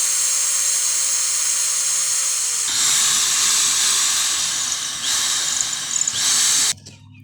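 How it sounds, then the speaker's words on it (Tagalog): A power drill whines steadily as it bores a hole through a ceiling board for a panel light, its pitch shifting as the bit bites deeper, then cutting off abruptly. "So gamit yung ating drill guys."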